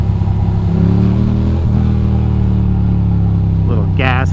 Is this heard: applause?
no